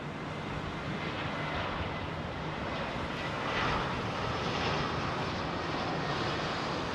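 A Boeing C-40 Clipper jet flies on approach to London Heathrow, its engines making a steady broad roar that swells slightly midway and stays moderately distant, with no talking.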